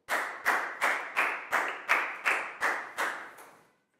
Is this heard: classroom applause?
yes